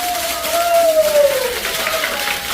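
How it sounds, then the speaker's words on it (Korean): A church congregation claps and cheers to welcome a pastor. The crowd applause is a steady broadband wash, with a voice drawn out over it. "우리와 같은 박수로 환영하겠습니다"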